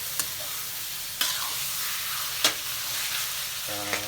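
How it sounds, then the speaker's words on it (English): Beef pieces frying in hot oil for a Hainanese beef dish, giving a steady broadband sizzle with a few sharp utensil clicks and a short tonal hum near the end, with no voices. "While the oil and the beef is still cooking"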